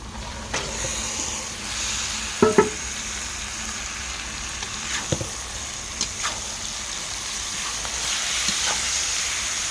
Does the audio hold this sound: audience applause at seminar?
no